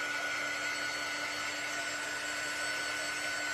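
A hair dryer blows continuously on painted Christmas decor, a steady, close whirring hiss with a constant high motor whine and no breaks.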